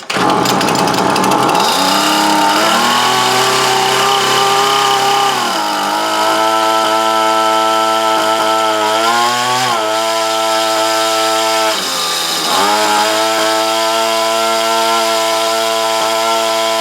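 Small engine driving a homemade crane winch with reversing gear, in need of a new carburetor, starts up and runs loudly close by, its pitch rising and dipping unevenly as the throttle hunts, buzzing continuously with no talking.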